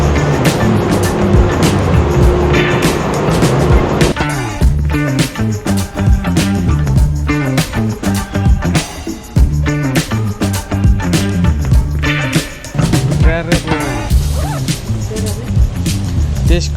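Car deck on the lower level of a ferry with parked cars, loud mechanical rumble and clanking with sharp bangs and shifting noise, a voice talking over it.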